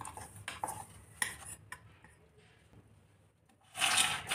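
Caramel being stirred into popcorn in a pan for Christmas popcorn candy, heard as irregular scraping, clinking and rubbing of a utensil, with a louder burst of scraping at the end and no talk.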